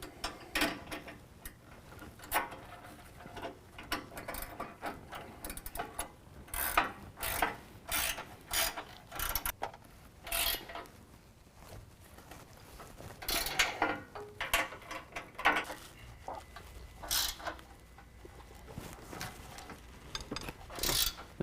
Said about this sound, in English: Now we're going to use an 18mm to tighten down our 2 nuts holding our bumper to our frame bracket.